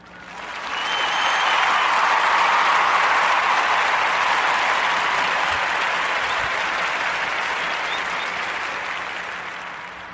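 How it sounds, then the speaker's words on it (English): Sustained audience applause for a guest and her son at a podcast taping, a dense wash of clapping that swells quickly and holds steady for about ten seconds before easing slightly. "join me in a warm narrative podcast round of applause for Miss McBride and her son"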